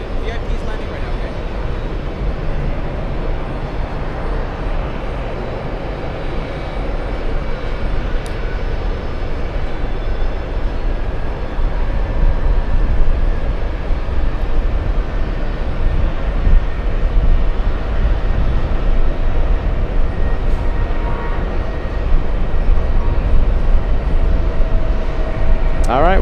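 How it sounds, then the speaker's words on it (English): A VIP jet carrying Kyrgyzstan's heads of state lands at JFK, heard as a steady, broad roar of aircraft engine noise from a distance that swells slightly toward the end, with occasional people talking nearby. "VIP's landing right now, okay?"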